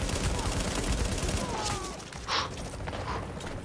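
Gunfire and sniper shots ring out in The Division on PS4, bursts of distant shooting and sharp cracks over noisy game sound.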